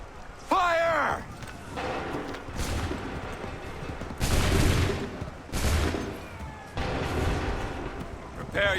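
A musket volley fired on command in the Assassin's Creed III Remastered video game: several loud, sharp crackling bursts of massed gunfire at intervals, with shouted orders and battlefield voices between them.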